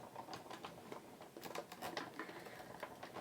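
A Big Shot die-cutting machine being cranked to cut paper, heard as a faint, close run of quick ratcheting clicks and soft mechanical patter lasting a few seconds, with no talking.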